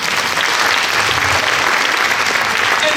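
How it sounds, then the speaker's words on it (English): A Fort Worth audience breaks into loud, sustained applause, a thick even roar of many hands clapping at once with no pauses. "So let's give her a round of applause."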